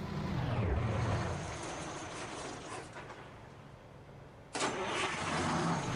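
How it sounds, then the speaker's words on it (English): A Lamborghini engine in American Truck Simulator runs at a steady, loud idle hum, then bursts sharply into a fuller, brighter rev near the end, with no talking. "let's rev up that Lamborghini"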